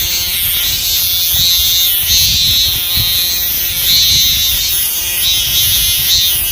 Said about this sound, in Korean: 오래간만에 매미 소리 들어봅니다.